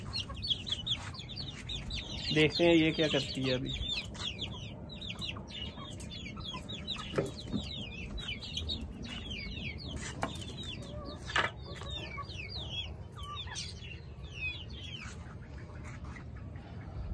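A flock of hens and a rooster cluck and call steadily in a farmyard, with a louder burst of clucking early on and occasional sharper calls, while a person speaks briefly nearby.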